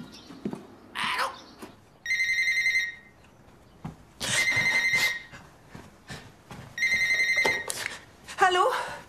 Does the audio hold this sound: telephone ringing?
yes